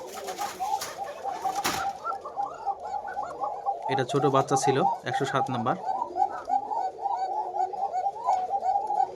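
Pigeons coo repeatedly and softly in a breeding loft, low throaty calls continuing throughout while someone talks over them.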